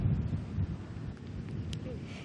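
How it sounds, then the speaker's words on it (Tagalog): Steady rain and gusting wind from Super Typhoon Pepito in Catarman, Northern Samar, a dense rushing wash with low rumble, heard faintly under a reporter's voice. "mula kaninang umaga hanggang ngayon patuloy ang nararanasang pag-ulan at minsan ang paglakas ng hangin"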